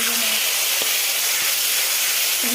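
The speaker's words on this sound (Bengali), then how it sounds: "বোরালি মাছ ছোটো মাছ ভাজা করছি" Small boroli fish fry in hot oil, a loud, dense, close hiss of sizzling that holds steady throughout with a couple of faint clicks.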